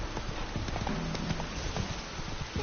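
A horse's hooves gallop in a PS4 video game, a continuous rapid clip-clop over a dense, noisy mix, steady throughout.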